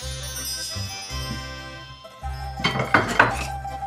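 Salt is stirred into cheese whey in a bowl with a utensil, giving light clinks and scraping against the bowl that build into a louder rattling burst near the end.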